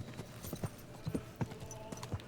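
Horse hooves clip-clopping at a steady walking pace in the video game Kingdom Come, a quiet, regular series of thuds over low ambient background with no talk.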